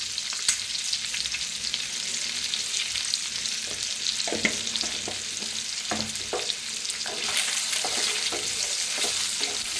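Eggs frying in oil with turmeric and red chili powder make a loud, dense, continuous sizzle, with clicks and scrapes of stirring through the middle and a slight swell near the end, no voices.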